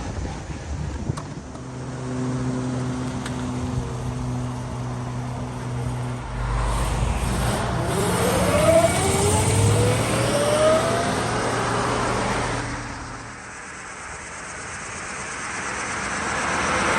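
A 1937 Cord 812 Phaeton cruises along a farm road, its engine a steady low drone heard from the passenger seat, rising gradually in pitch as it accelerates through a gear change, with wind and road noise and no talk.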